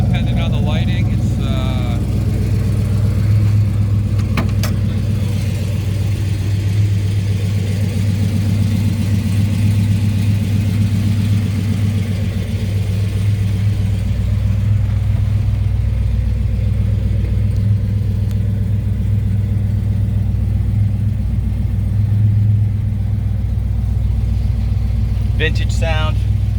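A 1970 Chevrolet Chevelle SS with a 396 V8 and 4-speed idles steadily with a deep, even low rumble throughout, while a person talks briefly over the engine.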